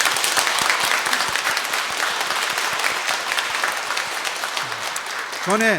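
A church congregation at Sunday Mass claps in steady, full applause that carries on throughout, with a voice cutting in briefly right at the end.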